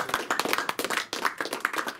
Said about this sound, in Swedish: Kör en applåd.